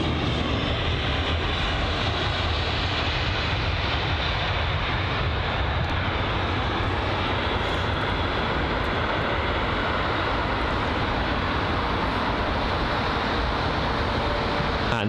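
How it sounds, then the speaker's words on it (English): Lufthansa Airbus A320neo after landing at London Heathrow, a steady broad engine roar with airflow hiss that holds unbroken throughout, loud and constant, with no talking. "the Lufthansa A320neo just taxiing now back to the gate area"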